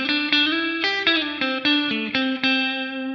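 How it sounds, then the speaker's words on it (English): Distorted electric guitar chords played in a DAW through a reverb unit, each struck chord ringing out into a washy tail; a steady run of notes with no voices. "For example, we can add a reverb unit to this exact same track."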